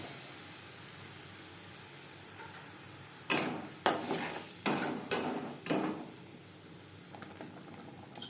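Onion, tomato and garlic paste going into hot oil in a pan used for frying eggs, faint low sizzle broken by a burst of sharp spoon-against-pan knocks and scrapes midway, then quieter bubbling.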